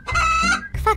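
Chickens cluck in a video game, two short squawking clucks close up with a brief gap between them and no voices over them.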